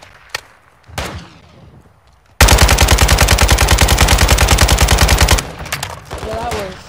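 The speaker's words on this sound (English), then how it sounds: "Taking effective fire." Automatic gunfire in a Call of Duty battle royale match sounds as a loud, rapid, sustained burst of about three seconds, preceded by scattered single shots and followed by quieter game sounds and a voice.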